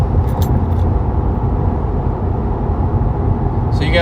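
A car cruises winding mountain roads in Mexico, its engine and road noise forming a steady, close, continuous rumble, with a brief jingle of keys near the start and again at the end.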